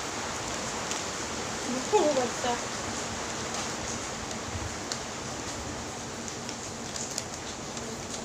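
Steady rain falls with an even broadband hiss, and a brief call or voice rises over it early on.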